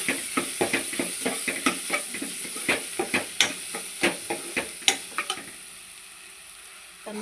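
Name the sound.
stirring turmeric and chili powder into mushroom capsicum curry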